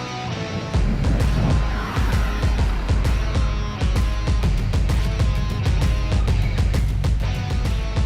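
A 2022 Genesis GV70 SUV launches hard in a drag race. A loud, continuous engine and road roar is broken by rapid, clattering bursts throughout.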